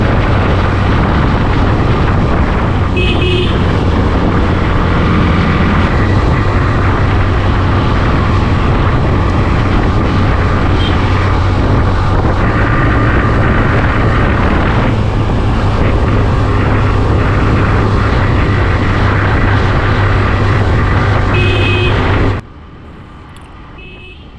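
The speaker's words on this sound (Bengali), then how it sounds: "চলো এখান থেকেও টানা যাক বাইকটা একটু" A motorcycle pulled hard along an open road produces a loud, continuous roar of engine and rushing wind that drops away abruptly near the end, with no talking.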